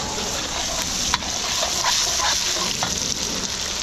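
Fermented rice sautéed with garlic, onion, ginger and tomato sizzles loudly and continuously in a pan, with close stirring scrapes and occasional clanks over the steady frying hiss.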